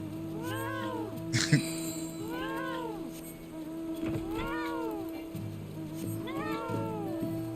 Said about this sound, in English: Why does the cat sound like that?